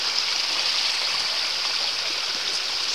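Water pours steadily out of a cleaned-out culvert end into a creek after a washout, a close, constant rushing hiss with no pauses and no voices.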